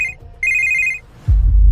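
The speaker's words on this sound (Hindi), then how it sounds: "तभी अनिका को आया एक ऐसा फोन कॉल जिसे सुनकर जम गए अनिका के पैर।" A telephone rings with two bright electronic trills, a short burst then a longer one, followed by a sudden loud low thump.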